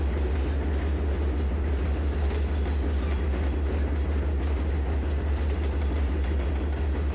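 A train in the Trainz 2022 railroad simulator runs with a steady, unbroken low engine drone and rumble, constant in loudness throughout, with no talking.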